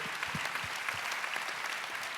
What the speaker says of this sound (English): Can everyone just give a round of applause for the crew here?